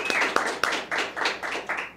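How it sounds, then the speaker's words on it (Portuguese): Scattered hand claps in a radio studio, a small group producing a few separate sharp bursts in loose rhythm, close and fairly clear, fading toward the end. "Gente, uma salva de palmas."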